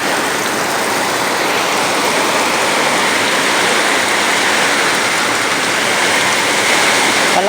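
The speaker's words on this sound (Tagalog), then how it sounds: "Palakas ng palakas ang ulan." Heavy typhoon rain pours down in a dense, unbroken roar of hiss, loud and constant throughout with no voices.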